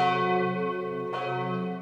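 A cathedral church bell in Calapan, Oriental Mindoro, Philippines, rings steadily, its long resonant tone sustained with a second strike partway through, clear and alone.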